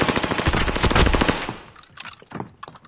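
Loud, rapid automatic gunfire from the Warzone video game, a dense burst over the first second and a half that breaks into scattered, quieter shots.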